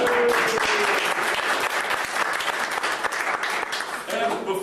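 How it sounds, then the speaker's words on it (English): An indoor audience at a gathering breaks into warm, sustained applause, many hands clapping densely and steadily. A voice speaks briefly over it. "So give everyone a big round of applause."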